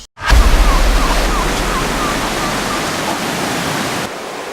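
A strong river rushing near a cave entrance, a loud constant roar of flowing water close up that starts abruptly and continues steadily before dropping slightly at the end.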